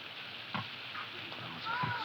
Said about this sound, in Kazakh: Сүмелек қайнап жатады.